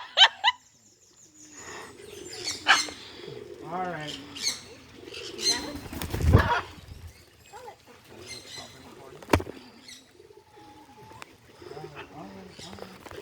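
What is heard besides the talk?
bird cooing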